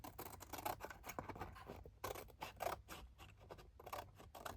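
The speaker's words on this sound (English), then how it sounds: "Scissors. I'm just trimming here first." Scissors snip and trim paper for a small vintage botanical mini file folder, a run of close, crisp cuts and rustles repeating steadily with brief pauses, no voices over the cutting.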